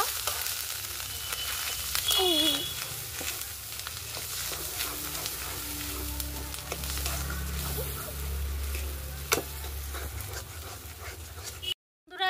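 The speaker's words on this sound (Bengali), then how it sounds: "ভালো করে ভেজে নেব" Ground spice paste fries in a pan for a Bengali aloo dum, giving a steady, close sizzle with scraping stirs as a voice talks over it.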